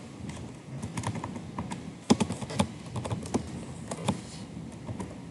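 Quick keystrokes on a computer keyboard as a command is typed into a Cisco switch console, an uneven run of crisp clicks and taps with a few sharper hits, close and alone with no talk.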